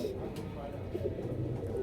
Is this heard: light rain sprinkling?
no